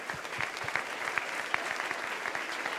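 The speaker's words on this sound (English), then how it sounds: "so let's applaud them for that as well." Steady applause from a conference audience at a closing ceremony, with dense clapping throughout, even and sustained, at moderate distance and with no voice on top.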